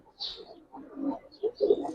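Pigeons coo softly in short, low murmuring bursts over two seconds, close by and fairly quiet, among giribaz and coloured pigeons being shown for sale.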